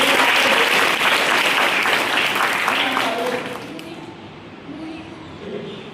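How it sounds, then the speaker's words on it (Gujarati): An audience at a career guidance talk claps together in a burst of applause that stays loud for a few seconds, then thins out and fades away. "તાળીઓ પાડો તમારામાંથી."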